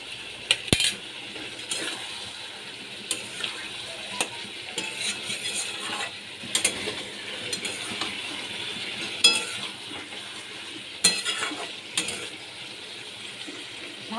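Egg curry masala with Kashmiri chili powder, cauliflower and potato is stir-fried in a pan. A steady soft sizzle runs throughout, broken by repeated clinks and scrapes of the spatula against the metal.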